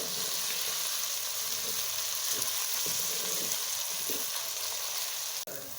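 Steady sizzling of onions and ginger-garlic paste frying in hot oil for kaleji masala, close and continuous, with a few soft stirring scrapes and a brief knock near the end.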